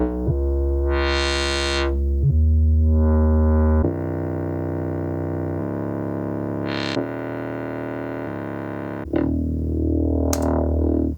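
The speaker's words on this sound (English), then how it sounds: "Next up, the bass line. The Voyager is just perfect for that." A Moog Voyager synthesizer plays a thick, distorted bass line of sustained notes, with filter sweeps brightening the tone.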